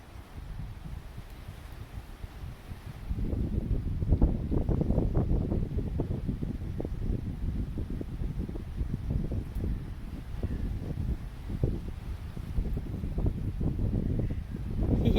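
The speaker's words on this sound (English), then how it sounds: "They're getting a little bit breezy now." Wind blows outdoors in a breezy spot where robins are nesting, a steady rushing buffet against the microphone that swells after a quieter start and keeps going without letup.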